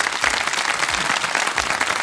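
Crowd applause at a Pakistan Day event celebrating a Norway Cup win by children from Lyari, a dense, even wash of clapping heard up close, with a few low thumps mixed in.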